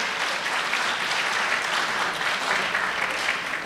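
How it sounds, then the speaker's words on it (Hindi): Audience applause fills a Hindi kavi sammelan poetry gathering, a dense, steady wash of many hands clapping at once, loud and sustained without a break, with no voices rising above it. "चाहे तालियां तो बजा दीजिए।"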